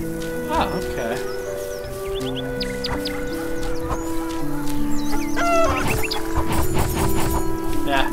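Chickens in a video game cluck repeatedly over a steady synthesized music loop, close and busy, with no talking heard.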